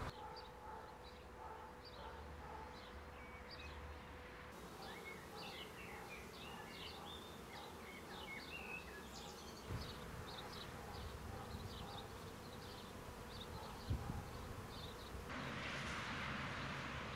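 Bees buzzing over an open field where they are being trained to sniff out landmines, a steady insect drone with some bird calls scattered above it and occasional low thumps.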